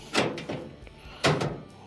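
An LG dryer's front panel is slid onto the hooks on its frame during a repair, giving two close, hollow metal clunks about a second apart with a light rattle between them and no talk.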